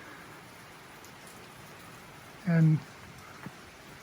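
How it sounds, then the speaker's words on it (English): Steady outdoor rain falling during a backyard build of a raised garden bed box on a sawhorse, a constant soft hiss throughout with one brief spoken word in the middle. "it's raining again."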